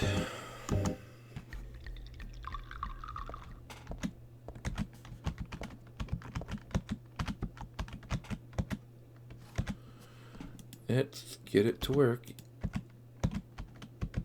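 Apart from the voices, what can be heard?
clicking computer keyboard buttons while playing Silent Hill 3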